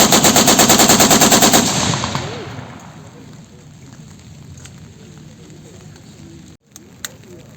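Light machine gun firing a rapid burst at a public event, with close, loud rhythmic shots for under two seconds, then a long decaying echo and faint background murmur.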